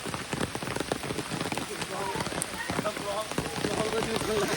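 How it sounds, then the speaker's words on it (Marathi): Heavy monsoon rain pours down on a mountain trip around Mahabaleshwar, a dense close patter of drops drumming on surfaces throughout, with voices talking over it. "एवढ्या पावसात."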